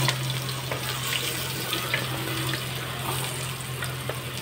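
Garlic sautéing in leftover frying oil, a continuous even sizzle over a low steady hum, close and fairly loud, with no talking.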